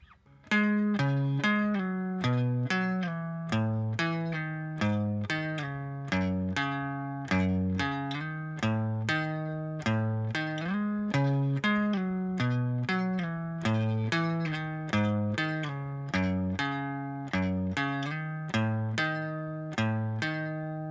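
A steady, repeating guitar riff, plucked notes in an even rhythm, sustained and fairly loud, played alone with no voices.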